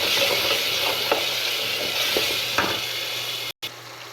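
Meat sizzles and fries in a pan, a steady close hiss broken by a few stirring scrapes, with a momentary dropout near the end.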